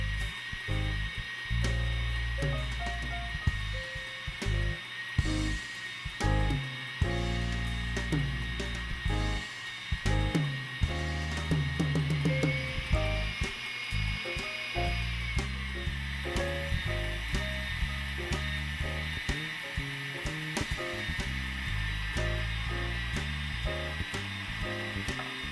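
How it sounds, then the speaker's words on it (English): An electric mixer runs while canola oil is slowly drizzled in, a steady high whine with pulsing changes in pitch and a faint rising tone partway through, and no talking over it. "At the same time the mixer is going, we're going to slowly add the canola oil."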